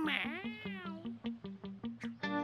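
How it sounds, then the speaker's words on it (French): A cat meows repeatedly in a rapid, whiny series of short cries, close and fairly loud, with a longer drawn-out meow at the start. "Le chat!"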